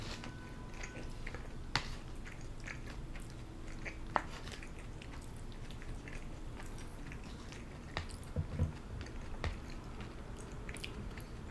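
Soft, moist chewing and biting of Din Tai Fung wontons, eaten cold from takeout, with occasional squishy clicks and mouth sounds close to the mic in a quiet room, no talking.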